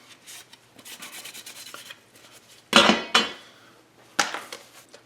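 A cloth rubs and scrapes inside a metal AK-47 receiver cover in close, dry bursts, a few louder scuffing strokes standing out among softer wiping sounds, with no talking.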